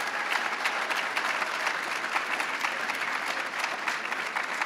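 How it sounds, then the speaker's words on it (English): A steady, fairly distant round of applause rises from the audience at the César E. Chávez Excellence Awards and Scholarship ceremony, many hands clapping evenly throughout without a break. "Give yourselves a big round of applause."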